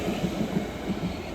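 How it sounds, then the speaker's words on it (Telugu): A train rolls past after heavy rain, a steady low rumble of rail wagons that stays even for a brief moment, fairly loud and with no voices. "ట్రైన్ అక్కడికి వెళ్ళి వస్తుంది"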